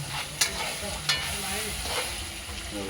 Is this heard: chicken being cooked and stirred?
yes